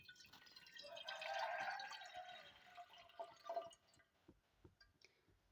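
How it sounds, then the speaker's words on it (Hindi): Water pours into a glass teapot in a short gurgling stream that tapers into a few faint drips, quiet and close. "यहाँ पर मैं 1 गिलास भर के जो पानी है वो इसमें इस्तेमाल कर रही हूँ"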